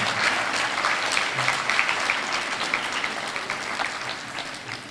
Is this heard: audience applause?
yes